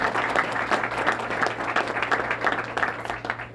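Audience applause at a local economic development jobs announcement in Louisiana, a steady wash of many hands clapping from a crowd, sustained and fairly even for several seconds with no voice over it.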